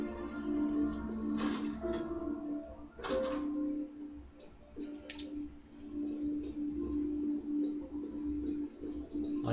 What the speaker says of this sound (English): I can hear grasshoppers.